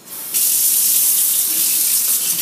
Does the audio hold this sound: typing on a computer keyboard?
no